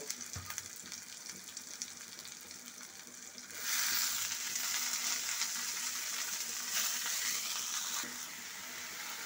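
Cauliflower florets tipped into hot oil with reddened spices, a steady frying sizzle that jumps louder after a few seconds and keeps hissing close by, with no talk over it.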